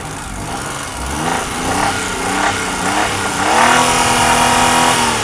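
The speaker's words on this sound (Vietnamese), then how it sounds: "Máy nổ thì thầm luôn rồi các bạn này." A Daewoo Matiz car engine runs steadily, close up, with a smooth mid-pitched hum and a gentle rise in revs toward the end, heard alone with no talking.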